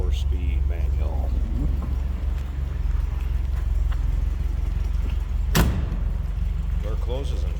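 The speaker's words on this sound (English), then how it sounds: "Door closes and fits nice." A door on a 1977 MG MGB convertible shuts once with a sharp, loud clunk, set against a low steady engine rumble and faint background noise.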